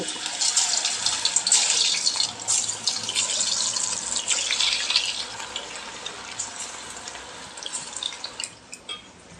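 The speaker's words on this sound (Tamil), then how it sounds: "எண்ணெய் காயட்டும், ஒன்று ஒன்றா போட்டுக்கலாம்" Chicken 65 pieces deep-fry in hot oil with a steady, close, hissing sizzle and fine crackle that thins out toward the end. No voices are heard.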